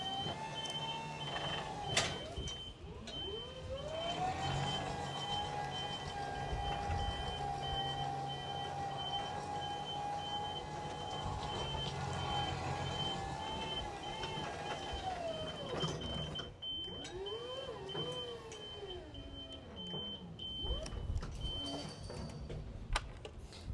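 A 2019 SkyJack SJIII3219 electric scissor lift with non-marking tyres driving along, its electric drive motor giving a faint, steady whine that rises, holds and falls, alongside a thin high tone.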